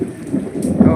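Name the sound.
thunder during a rainstorm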